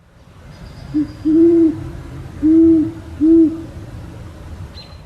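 A great horned owl in Forest Park gives a short low hoot followed by three longer deep hoots, clear and moderately near against quiet outdoor background noise.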